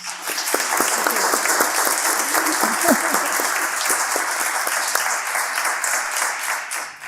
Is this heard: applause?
yes